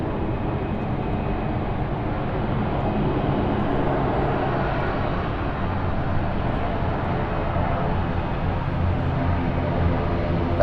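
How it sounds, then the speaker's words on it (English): Airplane engines roaring in reverse thrust after landing at London City airport, a loud, sustained broadband rumble heard from a distance that holds steady throughout. "Listen to those reverse thrusts there of the engines."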